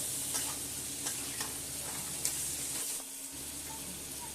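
Spicy crab curry with salt sautés in a pan, giving a steady close sizzle with occasional stirring scrapes. There is a low hum underneath and no talk.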